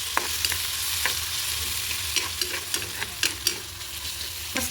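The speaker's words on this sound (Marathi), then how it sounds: "आता आपल्याला कांदा मस्तपैकी परतवून घ्यायचा आहे तांबूस होईपर्यंत." Onion being fried over low heat and stirred until browned, with a steady sizzle under repeated scrapes and clinks of the spoon against the pan, close and fairly quiet.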